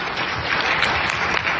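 Brief burst of audience clapping at a Modicare network-marketing gathering, dense and loud, continuous for under two seconds with no speech.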